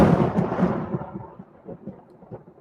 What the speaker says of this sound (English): African Thunderstorm.